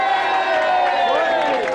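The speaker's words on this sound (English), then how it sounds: "Big round of applause!" A studio audience at a televised game show team championship final cheers and whoops loudly in a dense, sustained burst, with a few voices standing out above the crowd.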